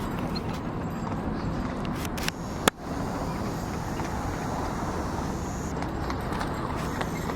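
A horse's steady hoof clip-clops on a city street with a tram nearby, under constant street noise and traffic rumble, fairly close, with one sharp knock partway through.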